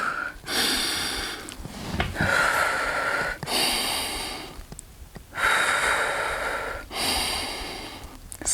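Slow, deep breaths taken in an elevated child's pose during a second-trimester upper-body workout, each inhale and exhale drawn out over a second or two with short pauses between, close and fairly soft.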